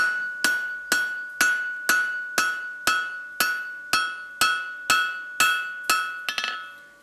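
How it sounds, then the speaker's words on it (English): Hot steel bar hammered on an anvil during forging, a steady run of about a dozen loud ringing metallic strikes roughly half a second apart, each with a bright lingering ring, ending in a couple of quicker lighter taps. "We very rarely hammer parallel with the anvil either."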